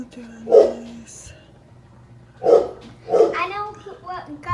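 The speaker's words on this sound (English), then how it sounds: "I know what got the dog barking." A dog indoors barks three times, close and loud, with one bark early and two near the end, during a tumbler crafting session with Mod Podge.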